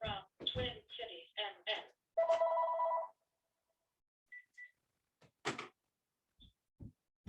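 A landline telephone gives one sustained bell ring at a meeting, between stretches of a person talking nearby, with a few faint clicks and knocks after.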